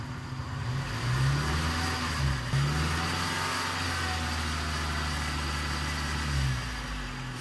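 Suzuki APV Arena engine revved to about 2000 RPM during radiator draining: a steady, close mid-pitched engine drone rising and holding, with a few shifts in pitch.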